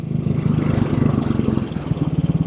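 A 1957 Royal Enfield Bullet 500 single-cylinder motorcycle engine thumps steadily with a low, pulsing beat while being ridden, close and continuous throughout, with no talking.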